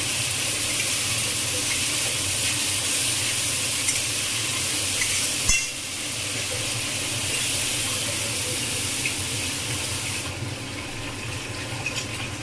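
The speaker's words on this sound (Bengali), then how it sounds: "মশলাটাকে ভালো করে কষাতে হবে তেল ছাড়া অবধি।" Spice masala of ginger and cumin sautés in oil in a pan for fuchka filling, producing a loud, continuous sizzling hiss with one sharp metallic clank of a utensil about halfway through.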